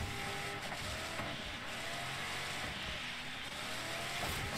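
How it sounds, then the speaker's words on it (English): Damaged rally car engine in DIRT 5 racing game, a rough mechanical whine and rattle running continuously with uneven surges, with no talk over it. "My engine doesn't sound too great"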